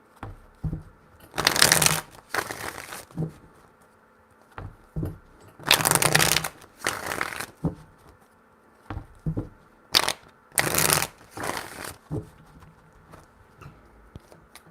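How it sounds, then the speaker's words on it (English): Tarot cards being shuffled by hand in several separate riffling bursts, crisp papery rustles and snaps close to the microphone with short quiet gaps and light handling noises between, no voices. "3 shuffles."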